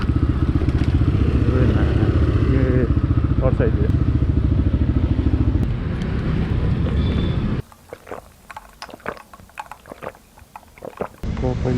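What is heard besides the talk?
Honda CRF / CrossX 250R motorcycle running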